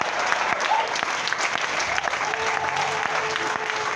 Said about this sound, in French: Si tu sais que tu es content d'être là, lève-toi et acclame.